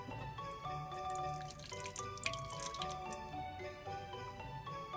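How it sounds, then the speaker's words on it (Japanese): Coffee is poured from one container into another while making a frappuccino-style coffee jelly, a steady liquid trickle with light tinkling and dripping, close and continuous, without speech. "ここにちょっとコーヒーを移し替えたいと思います"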